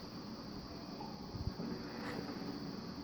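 Ambient Building Factory loop from Trainz Railroad Simulator 2004: a steady, faint, hissing industrial hum with low rumbling texture and one soft thump partway through.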